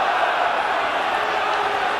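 Dense, steady roar of a large rugby league stadium crowd, including travelling Hull Kingston Rovers supporters, holding at an even loud level throughout with no distinct individual shouts.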